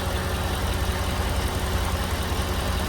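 A Mercedes car engine idling during an air-conditioning pressure check, a steady, loud low rumble with an even drone and no talking.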